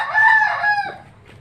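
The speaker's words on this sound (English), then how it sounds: "with native chicken" A native chicken rooster on an organic farm crows once, loud and close, in a long wavering call that fades out, with a low hum of background underneath.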